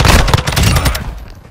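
A loud, close burst of rapid automatic gunfire from Call of Duty: Modern Warfare II, packed shots for about a second that then drop away into a short decaying tail.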